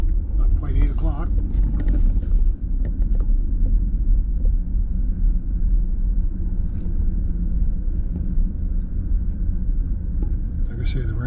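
A car drives slowly through a golf course parking area, with a steady, loud engine and road rumble throughout and a person talking over it.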